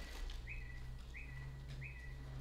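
A bird loose inside an indoor meeting hall gives three short, evenly spaced chirps, faint against a steady hum of room noise.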